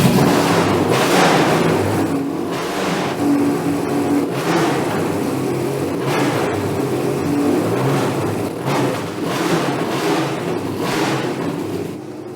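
The exhaust of a BMW 3.0 CSL Calder Art Car rises and falls in repeated loud revving swells, a close, throaty engine roar with no talking.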